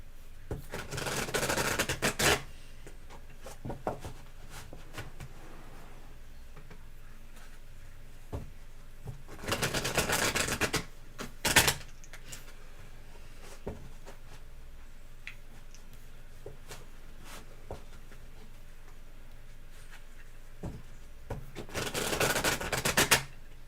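Tarot cards are shuffled in several short bursts of dense riffling and slapping, close and crisp, separated by long quiet gaps with a few isolated taps.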